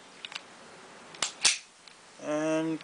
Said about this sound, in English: Magazine goes in